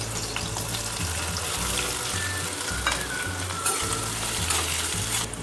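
Boiled potato slices added to a hot pan of sautéed green chillies, frying and being stirred with a steady close sizzle, periodic scraping strokes, and a faint running-water hiss behind.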